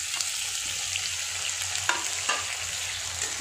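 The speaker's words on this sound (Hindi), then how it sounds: "अब इसमें डाल देंगे ये टमाटर को" Potato and onion masala frying in a pan as tomatoes go in, with a bright continuous sizzle and a couple of sharp stirring clacks, close and alone with no speech.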